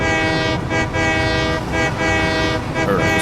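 A train in the video game Satisfactory rolls past with a steady, loud mechanical rumble and sustained horn-like tones, the noise swelling and dipping in regular pulses.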